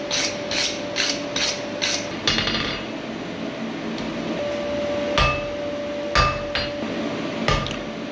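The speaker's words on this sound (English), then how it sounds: "I'm just focusing my hammer blows right on the end of that bar, trying to forge that down to a nice point" Hammer blows forging a square taper on the end of a hot steel bar, heard as a series of sharp metallic strikes in quick pairs, with short pauses between groups and a steady ringing hum underneath.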